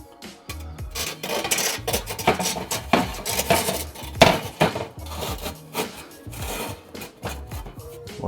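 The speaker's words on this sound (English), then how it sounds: "So we're going to get the stone, and the stone will go in from the front." A pizza stone is slid in from the front of an Ooni Karu pizza oven, making close, loud clunks, rattles and hard scraping of stone against metal in an irregular run, with no voices.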